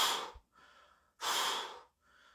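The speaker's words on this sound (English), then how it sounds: "slow breaths out" Two slow, audible breaths out as a breath work exercise, each a long soft airy exhale followed by a fainter breath, close and calm with no talking.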